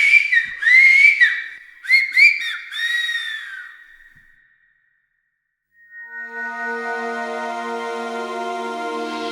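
Silbo Gomero, the whistled language of La Gomera in the Canary Islands, comes as a string of sharp, pitch-gliding whistles. After a brief silence, a second sustained, steadier whistled tone follows.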